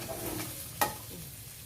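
Fried rice being stir-fried with a sugar and sauce mixture, a soft sizzle under steady scraping, with one sharp clink of a utensil midway, close and fairly quiet.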